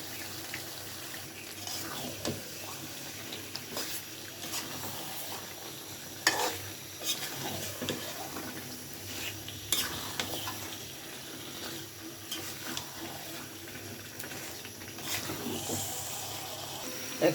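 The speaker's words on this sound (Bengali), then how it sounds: "এখন আমি একটা লাড়া দিয়ে দিচ্ছি।" Chicken and new potato curry being stirred in a pan, soft intermittent scraping and stirring knocks over a low sizzle, with occasional watery sounds, faint and close.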